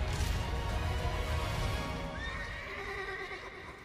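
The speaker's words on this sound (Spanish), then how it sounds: "El caballo." A horse neighs loudly and close in the video game Metal Gear Solid: Peace Walker, a long whinny sliding down in pitch over heavy rumbling noise.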